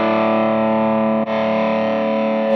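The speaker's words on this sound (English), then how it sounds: "Overdrive" Electric guitar through the overdrive effect of a Fender Mustang Micro Plus feeding an amp, with reverb on: one sustained, gritty chord ringing steadily, briefly re-struck midway.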